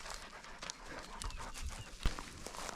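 Dogs pant rapidly and close by on a rural hiking path in Spain's La Alpujarra, with quick rhythmic breaths, a few light scuffs and a sharp thump near the end.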